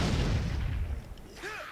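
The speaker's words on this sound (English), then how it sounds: "I'm tossing grenades. Hopefully that works." Grenade blasts in the video game Dead Rising 4 give a sustained low rumbling boom that fades midway, followed by faint game sound effects, with a voice briefly under it.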